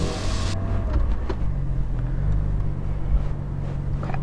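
A Porsche 718 GT4 sports car drives, its engine a low, steady rumble heard from inside the cabin after a brief louder burst at the start, with no voices.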